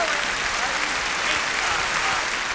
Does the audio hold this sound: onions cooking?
no